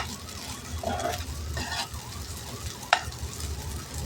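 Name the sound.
stirring sabudana khichdi with crushed peanuts in pan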